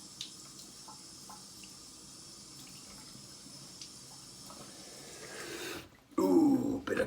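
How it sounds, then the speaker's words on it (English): Cold tap water running into a bathroom sink for a rinse after shaving: a steady faint hiss of flowing water, then a louder, closer splashing gush as the flow hits the basin. "bit of cold water rinse after the warm water"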